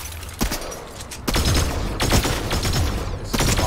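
Rapid bursts of video game gunfire crack out in close, loud volleys, several clustered shots followed by denser sustained firing with thuds mixed in, no talking over it.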